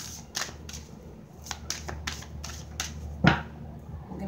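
Tarot cards drawn one at a time from a deck give soft, papery snaps and taps at irregular intervals, with a sharper, louder flick near the end, over a low steady background hum.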